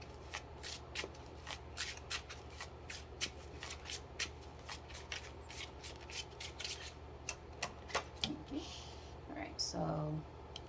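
Tarot cards are shuffled for a six-card spread, with a long run of crisp, rhythmic riffle-and-slap strokes close to the listener. A quiet voice talks over the shuffling.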